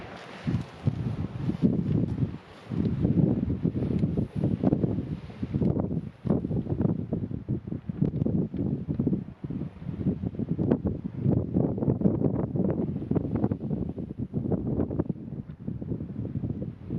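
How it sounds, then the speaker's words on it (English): Steady wind gusting across a Bossington beach during a sea fishing session, buffeting the microphone with a loud continuous low roar and brief lulls, no voices. "the wind's picked up a bit"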